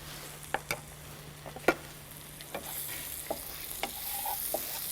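Minced garlic and chopped ginger fry softly in a pan for protein rice, a low, quiet sizzle broken by scattered sharp spatula taps and scrapes.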